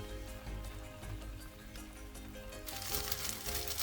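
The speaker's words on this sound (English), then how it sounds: "I'm gonna cook it, let it get crisp on one side, and I'm gonna flip it over" A birria quesadilla with Mexican cheese sizzles steadily in a hot pan, a soft crackling hiss that swells louder toward the end, with no talking.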